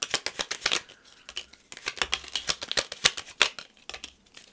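Quick bursts of riffling and flicking as a deck of tarot message cards is shuffled by hand, with short pauses between the fast papery runs and soft taps as cards are drawn.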